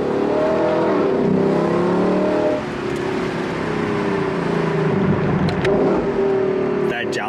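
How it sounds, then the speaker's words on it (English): A loud naturally aspirated V8 engine of a 2023 Lexus LC500 Convertible revs steadily, the pitch rising and then dropping as gears shift, a deep continuous roar close by with no talking. "Listen to the sound of this naturally aspirated V8."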